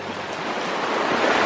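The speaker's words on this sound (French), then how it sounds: "Et là, c'est une rivière." Rushing water from a river flooding over a hiking trail in the Alaskan wilderness, a steady broadband roar that holds continuous and close throughout.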